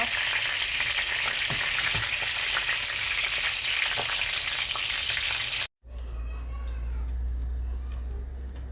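Tomato paste sizzles steadily in a hot pan while it is stirred, giving a dense, continuous frying hiss that cuts off abruptly near the end and then gives way to a quieter, low-pitched bubbling simmer.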